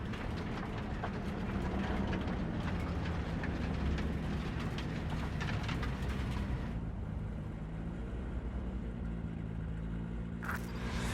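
Train rolling along its tracks in the Cyberpunk 2077 video game, a steady loud rumble and rattle of wagons that runs continuously throughout, easing slightly toward the end.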